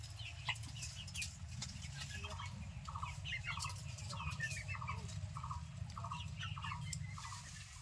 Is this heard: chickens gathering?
yes